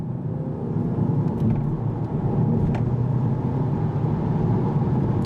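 A 2015 Audi drives in individual mode, its engine and road noise forming a steady, close low rumble that holds throughout with a few faint brief ticks above it.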